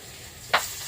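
Frying in a kadai on a gas stove turned up high: a brief, close hiss with a sharp sizzling burst partway through.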